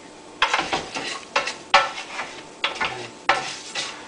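A wooden spoon stirs rice in a non-stick pan, with a series of sharp scraping sweeps in an irregular rhythm, close by over a faint sizzle, no voices.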